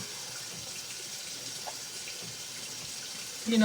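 Tap water runs in a steady, even rush for thinning cornbread batter in a home kitchen, constant and fairly close for the whole stretch, with a brief louder splash at the very end.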